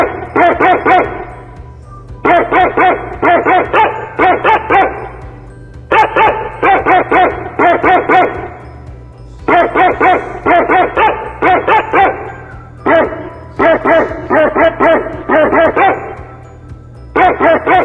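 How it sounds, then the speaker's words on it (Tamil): A dog barks loudly and close by in repeated bursts of several quick barks, with short pauses between the bursts, over a low background hum. "நாய் குரைக்கும்."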